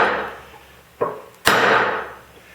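A hammer strikes a half-inch square steel bar to drive a piece out of a wooden woodworking vise, two sharp ringing blows close by, the second louder and trailing a fading ring.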